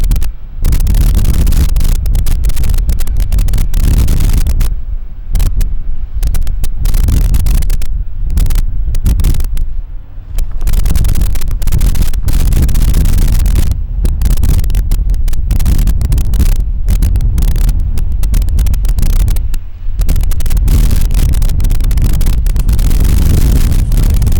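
The engine of the U-77 Miss Wahoo racing hydroplane warms up, roaring loudly and continuously, revving and surging in bursts with brief dips, heavy rumble mixed with wind buffeting.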